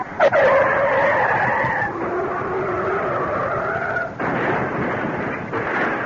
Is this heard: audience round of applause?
no